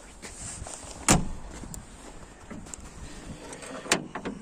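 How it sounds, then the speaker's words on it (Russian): An IZh 2126 Oda car engine idling after a cold start, a steady low running drone with a couple of sharp clunks or knocks standing out. "Запустил тачку, прогрел ее."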